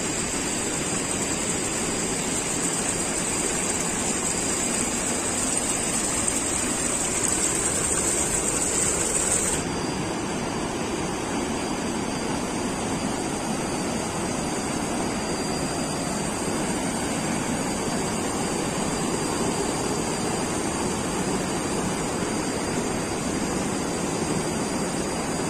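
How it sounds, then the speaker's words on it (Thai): Steady, loud broadband roar of a waterfall at Kaeng Wao rapids in Thailand, continuous and close throughout, with no voices. "นี่เป็นน้ำตกลงมาด้วย"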